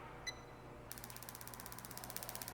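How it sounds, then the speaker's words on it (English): A direct spark ignition sparker on an outdoor fire pit gives a fast, steady series of sharp clicks, about twenty in quick succession, faint over a low background hum, after a single brief beep from the module. "you should hear a single beep from the module and a spark that sounds like this."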